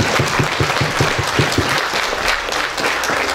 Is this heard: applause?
yes